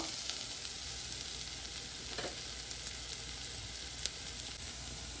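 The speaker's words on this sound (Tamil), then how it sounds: "எல்லாத்தையும் போட்டுட்டு நல்லா கிளறி விடுங்க." Continuous sizzling of masala frying in a pan, with occasional faint scrapes and clinks of stirring, steady and close.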